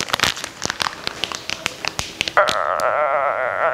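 Crinkly plastic packaging around a Fix Price cosmetics palette being torn open, with sharp crackling and crumpling bursts at close range, followed by a sustained squeaky rubbing tone at the end.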